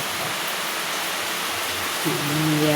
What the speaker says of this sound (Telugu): ఇంకా ఎక్కువగా వస్తుందండి వర్షం